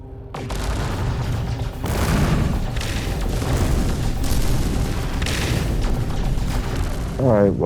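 Weapon fire aimed at a ship in No Man's Sky, a dense stream of booming blasts and bursts that runs almost continuously, loud and near, with a rising whine at the end.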